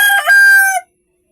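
A rooster crows once, loud and close, a single bright drawn-out call that cuts off cleanly into silence.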